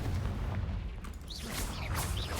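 A Confringo fire spell explodes in the Hogwarts Legacy video game as a rolling low boom, with brief whooshing bursts layered over a continuous rumble.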